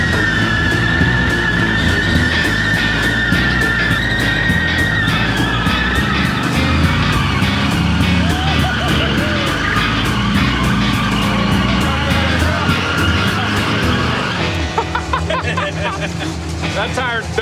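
A 1967 Pontiac Firebird's engine roars loudly and continuously as the car drives hard, with tire squeal and a busy crowd-like background mixed in throughout.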